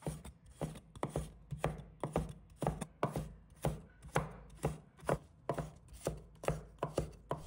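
A carrot cut into thin shreds with a knife on a board: steady, rapid chopping taps, evenly spaced and close, about two per second, with no voices.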